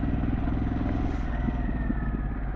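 Steady, loud engine drone from a Harley-Davidson Pan America adventure motorcycle with a Vance & Hines exhaust riding off-road, a continuous rumbling exhaust note with slight rattling and no talk.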